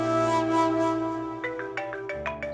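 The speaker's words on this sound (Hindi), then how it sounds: "फोन बज रहा तुम्हारा, उठा क्यों नहीं रहे?" A mobile phone rings indoors in a Pakistani drama scene, a melodic ringtone repeating its tune steadily and fairly quietly, with no one speaking over it.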